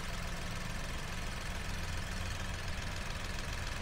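The engine of a 2019 Datsun GO T with a manual gearbox idles steadily, a low, even mechanical hum and faint ticking that hold constant throughout, fairly quiet and with no talking.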